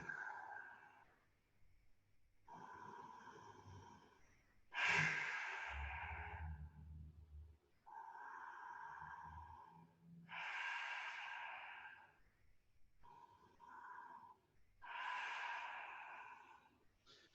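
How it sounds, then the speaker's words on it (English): Slow deep breaths held in a yoga pose, long airy inhales and exhales alternating at a calm even pace, close and soft, with no talking. "We're going to stay here for 4 deep breaths."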